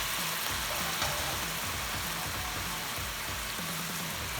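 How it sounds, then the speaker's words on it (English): Beef sautés in a pan with a constant close sizzle, punctuated by regular rhythmic scraping of a utensil stirring the meat. "On the same pan, I'm going to put my beef. Saute this a little bit."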